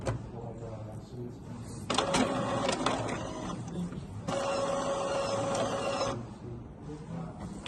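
Printer printing a page during setup, two stretches of mechanical whirring with a steady tonal hum and clicking paper feed, separated by a brief pause, near and fairly loud.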